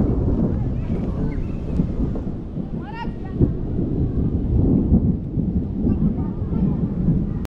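Thunder rumbles low and broad over a village in the rain, a long rolling roar beneath steady rainfall and wind, with a voice speaking briefly partway through.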